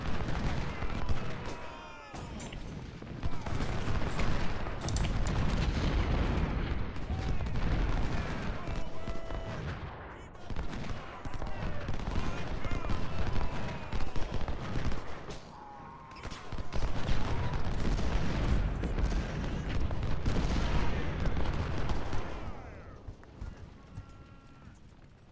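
Militia muskets and artillery in a Civil War battle game crackle in ragged volleys with heavy booms, dense and continuous across the whole stretch, broken by a few short lulls.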